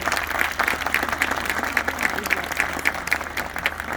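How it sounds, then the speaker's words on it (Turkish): A crowd of townspeople at an open-microphone public meeting applauds, a moderate, continuous patter of many hands clapping with some individual claps standing out, heard from a short distance with no talk over it. "kendinizi kocaman bir alkışlamanızı istiyorum"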